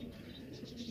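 Kept pigeons in Peshawar give a soft, low cooing, faint and brief against quiet surroundings.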